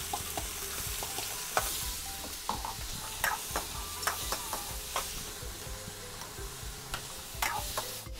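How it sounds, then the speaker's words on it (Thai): Vegetables and shrimp stir-fry in hot oil with a soft, constant sizzle, punctuated by frequent sharp clicks and taps of a utensil against the pan; nobody speaks. "ผัดผักกุ้งกันค่ะ"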